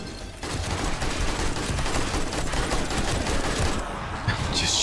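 Rapid automatic gunfire blasts continuously into a zombie horde during horde night in 7 Days to Die, loud and sustained for several seconds before cutting off.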